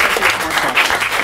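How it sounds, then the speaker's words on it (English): An audience applauds for Tom in a short, dense and fairly loud burst of clapping. "Ladies and gentlemen, let's give Tom a round of applause"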